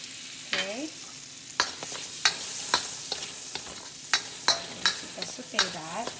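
Ginger sauteing in a pan for a crab and coconut milk dish: a soft steady sizzle punctuated by sharp scraping clicks of stirring, with no talk.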